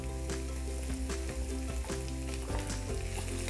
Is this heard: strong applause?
no